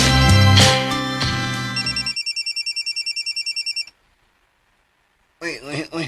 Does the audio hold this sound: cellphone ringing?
yes